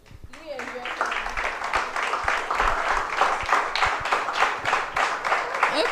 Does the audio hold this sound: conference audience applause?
yes